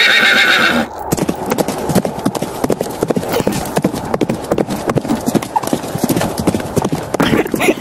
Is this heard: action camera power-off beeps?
no